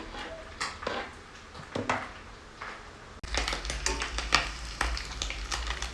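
Small omena fish frying in a pan, crackling sizzle with scraping stirs and utensil knocks, growing louder and denser partway through, close and busy.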